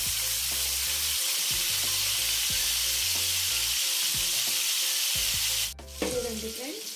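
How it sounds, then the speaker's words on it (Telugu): Cauliflower pieces sizzling steadily in hot oil, a loud continuous frying hiss with a brief stir toward the end, while soft background music plays underneath. "ఇప్పుడు క్యాలీఫ్లవర్ ముక్కల్ని ఆయిల్లో వేసుకొని ఫ్రై చేసుకోవాలి"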